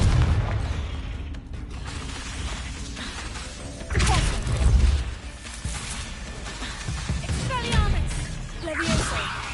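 Booming Confringo spell blasts from Hogwarts Legacy go off repeatedly in a magic duel, with thuds and bursts amid mechanical effects, and a voice speaks between the impacts.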